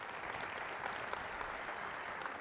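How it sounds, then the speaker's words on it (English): Steady, distant applause from a conference audience honoring the COSN staff and board, a faint, even wash of many hands clapping at a keynote with no voices on top. "So please join me in a round of applause for them."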